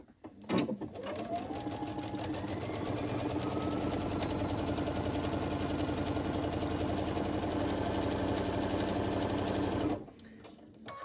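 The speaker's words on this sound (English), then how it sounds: "what we're going to do is just sew along the lines that we've made, and we are going to quilt" A sewing machine stitches along marked lines to quilt fabric for fabric pumpkins, running steadily with a rapid needle rhythm for about nine seconds before stopping.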